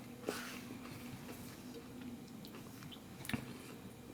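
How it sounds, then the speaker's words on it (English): Close, soft chewing of a food-challenge meal, with moist smacking and a couple of sharper bite clicks over steady low room noise and no talk. "I'm still chewing"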